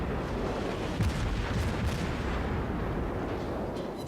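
Naval gunfire from an Omaha cruiser in a naval warfare video game, heavy booming salvos over a constant low rumble, with several sharper reports standing out, loud and continuous with no speech.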